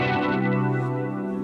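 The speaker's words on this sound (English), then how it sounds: "our new polyphonic two-voice pitch shifter" A sustained electric guitar chord through an Eventide H90 polyphonic two-voice pitch shifter rings out with a layered, shimmering pitch-shifted doubling, smooth and steady before fading slightly.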